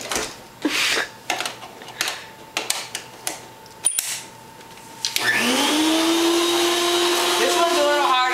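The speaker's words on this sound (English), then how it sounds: "Now here it is an example of vacuuming with this," A Carpet Master vacuum cleaner starts up and runs with a steady, loud whine while vacuuming carpet, following a few seconds of handling clicks and knocks.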